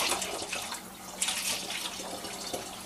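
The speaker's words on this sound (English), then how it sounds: "So now you got to pour your stuff back into your container" Sanitizer liquid used for home brewing is poured back into a container, a quiet, continuous splashing trickle lasting a few seconds with no other sounds.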